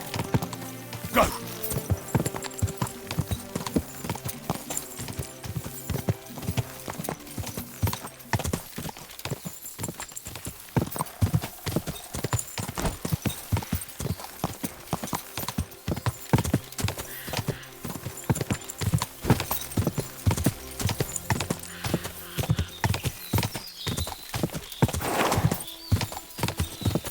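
Rapid, rhythmic hoofbeats of a horse galloping in Kingdom Come: Deliverance 2, loud and sustained, with occasional whinnies and snorts breaking through the pounding.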